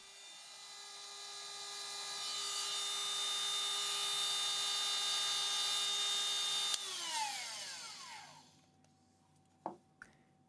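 A rotary tool whines at high speed while cutting through a fountain pen nib, holding a steady, near tone for several seconds before winding down, followed by a couple of sharp clicks.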